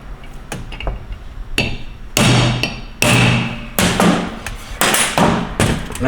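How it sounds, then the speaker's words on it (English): Repeated hammer blows tap an aluminum ball into an orifice in a 6L80 transmission pump, a series of sharp taps and heavier knocks at an uneven pace, close and loud. "we are going to tap the aluminum ball into place"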